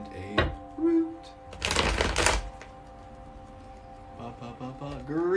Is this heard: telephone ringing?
no